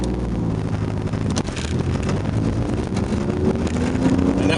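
An Alpine GTA V6 car accelerates hard down a road through the gears, its engine a loud, continuous roar that climbs in pitch, with steady wind buffeting across the microphone.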